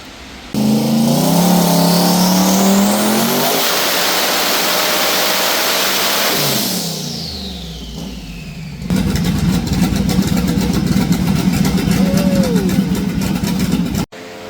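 A twin-turbo LS-powered Trans Am on a dyno at high boost revs hard and loud, then winds down. It picks back up into a rough, rumbling run before cutting off abruptly.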